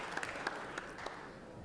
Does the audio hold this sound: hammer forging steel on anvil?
no